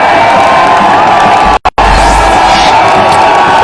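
A huge crowd roars and cheers at a Bangladesh vs Sri Lanka cricket match, a loud dense wall of shouting and whooping that drops out for a brief moment before surging back.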